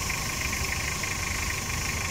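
Toyota 2L diesel engine, just after a top overhaul for overheating, runs steadily at idle with a dense, even mechanical drone and faint knocking texture, close and continuous with no talk.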